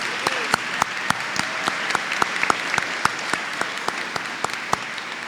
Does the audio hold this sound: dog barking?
no